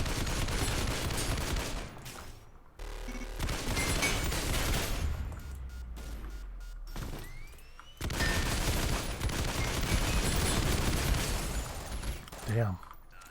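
Heavy machine gun fire in the game Synthetik comes in long, loud sustained bursts broken by brief pauses, with dense rapid shots and explosive booms.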